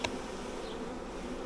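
A honey bee swarm hums steadily at the entrance of a nuc box, a dense, continuous buzz of many bees flying in from all around, close and even throughout, with a brief sharper tap near the start.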